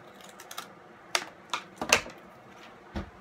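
Scissors cutting opossum skin along a drawn line, a handful of short sharp snips spaced unevenly and heard up close, with no talking.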